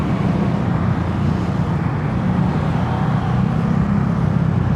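A Yamaha Mio Gravis V2 scooter engine runs steadily with a smooth low drone, loud and close, heard while riding with road and wind rumble mixed in and no talking.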